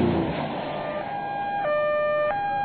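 An ambulance siren from a children's picture-book sound effect: a loud, steady two-tone wail that steps between a lower and higher pitch, close and alone with no talking.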